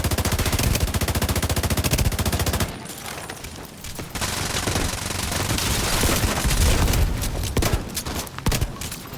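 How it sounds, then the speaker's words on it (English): Rapid bursts of loud weapon fire in The Division 2 video game, including shotgun blasts from an M870 during PvP combat, dense continuous gunfire with a brief lull before the barrage resumes. "Boom. Big old dirty shotgun."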